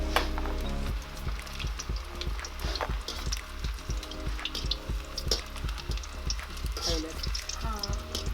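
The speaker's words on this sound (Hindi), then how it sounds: "एक एक करके काकी धीरे धीरे पकौड़ी डालती है" Pakoras frying in hot oil over a wood-fired stove in Uttarakhand, a steady close sizzle and crackle with scattered pops and clinks throughout.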